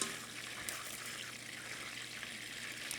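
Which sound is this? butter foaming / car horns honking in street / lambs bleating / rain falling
butter foaming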